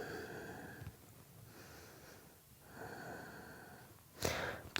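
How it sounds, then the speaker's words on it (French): Breathing during a dynamic morning yoga routine: slow, close inhales and exhales rising and falling in long cycles, with a sharper, louder breath burst near the end and no talk. "On respire."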